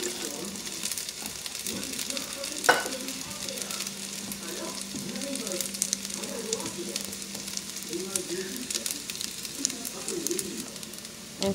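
Oil sizzling in a pan for white rice, a steady close frying hiss running throughout with a brief sharp clink early on and a voice speaking over it.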